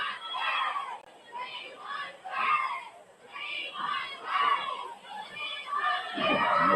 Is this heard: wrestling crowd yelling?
yes